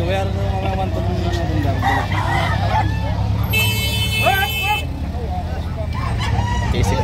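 Rooster crows and chickens cluck at a fowl sale in Padre Garcia, Batangas, with one bright, strained crow standing out midway above a steady crowd murmur and nearby talking.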